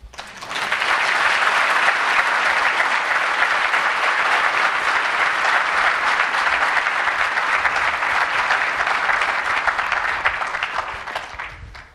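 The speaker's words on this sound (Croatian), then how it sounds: "uzvratite na ovo dobroveče s jednim aplauzom" Sustained, even applause from an audience at a Belgrade book presentation, a dense wall of clapping lasting about ten seconds before tapering off at the end.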